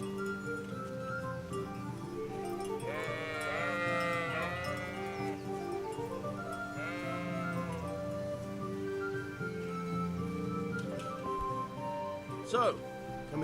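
Sheep bleat in a video game, with wavering, drawn-out cries heard twice over a busy background of other game sounds, and a voice speaking as well.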